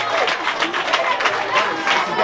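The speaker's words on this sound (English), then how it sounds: "Give yourselves a round of applause." A church audience applauds steadily in dense, continuous clapping, with crowd voices mixed in underneath.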